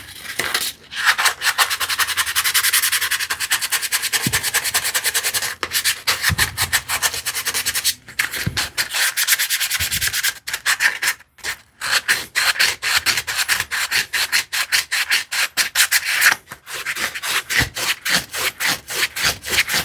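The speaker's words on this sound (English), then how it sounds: "the rasp is actually like the most important tool in that case, because I will be shaping the saw handle" A rasp shapes a wooden handle for a 16-inch tenon saw kit, making loud, rhythmic back-and-forth rasping strokes with brief pauses between passes.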